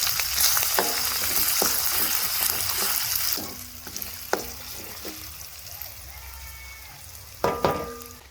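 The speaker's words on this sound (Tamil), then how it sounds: "இஞ்சி வெள்ளைப்பூடு பேஸ்ட்டு போடுங்க." Ginger garlic paste sizzles in a hot pan for fried rice, loud and close at first, then softening as the heat is lowered, with occasional utensil clinks and scrapes against the pan.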